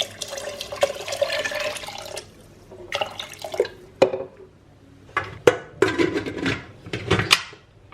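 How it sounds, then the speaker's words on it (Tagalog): Water splashes and trickles into a cooking pot for bulalo beef soup in a few separate bursts, with clinks of metal between pours. The sounds are close and fairly quiet. "now we will add our water"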